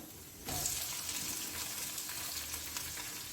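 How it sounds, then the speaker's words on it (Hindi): Onions drop into hot oil in a pan for an aloo samosa roll, and a sudden steady sizzle rises and then holds, close and continuous, with no talking. "इसी में जाएगा अब प्याज।"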